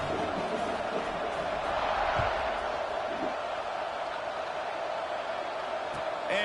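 A stadium crowd in a college football video game roars in a sustained, loud wash of cheering that holds steady throughout.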